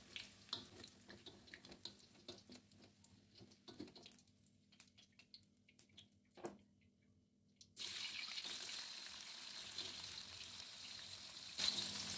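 Tofu fries in oil until golden brown. Quiet kitchen clatter and faint dripping give way to a sudden loud, steady sizzling hiss that fills the last few seconds.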